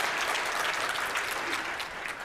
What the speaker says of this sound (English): You guys give yourselves a hand for being here today